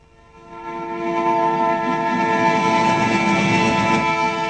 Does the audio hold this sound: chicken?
no